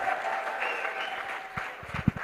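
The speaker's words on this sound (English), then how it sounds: "I think he deserves a clap of hands." Hands clapping at a youth conference in the UK, a steady, fairly loud round of applause from the audience throughout, with a few sharp individual claps standing out near the end.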